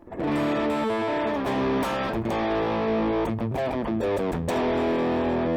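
Electric guitar heavily distorted through a distortion pedal plays chords and riffs, loud and sustained with a thick, buzzing tone and no voices.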